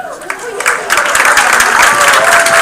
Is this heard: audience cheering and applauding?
yes